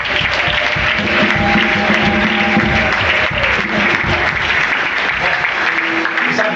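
Sustained, loud applause from a church congregation at a pastor's anniversary service, a thick continuous roar of clapping and cheering that holds steady throughout.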